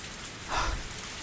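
Steady rain from a Higurashi visual novel sound effect, an even wash of falling water that swells briefly at the midpoint before settling back to a soft, constant patter.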